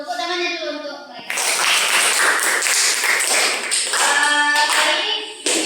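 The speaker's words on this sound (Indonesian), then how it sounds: "Tepuk tangannya dulu untuk mereka." A classroom of children claps together in a sustained burst of applause, broken by a brief pause, with an adult voice talking over the clapping.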